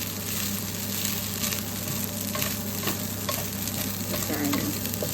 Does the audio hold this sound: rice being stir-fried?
yes